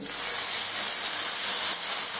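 Water poured over a dhapata flatbread hits a hot griddle with a loud, steady hiss of steam that holds evenly for a couple of seconds.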